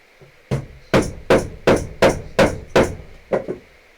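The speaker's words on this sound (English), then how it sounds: "Dead blow hammer." Dead blow hammer pounding a four-prong hole punch on a pound board while making a leather knife sheath; seven loud, close strikes in a steady rhythm, then a lighter double tap at the end.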